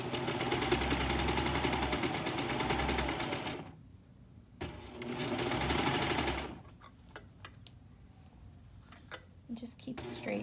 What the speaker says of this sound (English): you can use your sewing machine with a zigzag stitch